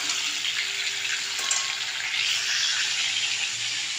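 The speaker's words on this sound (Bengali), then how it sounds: "আলু পটলের তরকারি যখন আমি করি আগে তো ভালো করে ভেজে নিই।" Potato and pointed gourd pieces fry in oil for a curry, giving a steady, bright sizzle at close range with a brief clink of utensils partway through.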